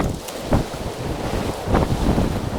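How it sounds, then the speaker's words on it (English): Strong wind buffets the microphone on an Ohio lake during early spring bass fishing, a loud continuous rumble with gusty swells and no speech. "Super windy."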